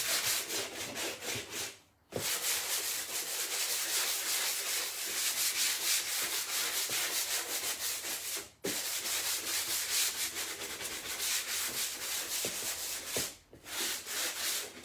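Sanding block rubbed over a white chalk-painted faux marble surface, a steady loud scratchy back-and-forth rasp that continues nearly unbroken, with brief pauses between passes.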